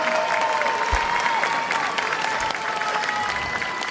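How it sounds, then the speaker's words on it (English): Audience at the Miss Universe 2020 preliminary competition applauding the organization's president, thick sustained clapping with sharp individual claps popping out, a bright hum beneath and a few low thumps. "let's all give a round of applause for the president of the Miss Universe organization, the incredible Paula Sugar"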